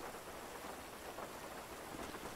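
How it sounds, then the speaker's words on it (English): Rain pours down during a thunderstorm in GTA 5, a steady broadband hiss of heavy rainfall with a low rumbling undertone, faint and continuous without any voices. "Oh, a storm! Perfect timing."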